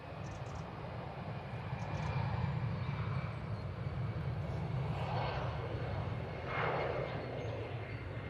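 An SAS airliner on final approach from Oslo, its engines a sustained low roar that grows a little louder midway and stays steady, moderately distant.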